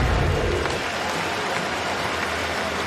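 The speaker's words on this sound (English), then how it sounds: "Sitting up now and get some applause from the crowd here at BMO" Stadium crowd at BMO Field applauding during a CFL football game, a dense, steady roar of distant clapping that holds evenly without a break.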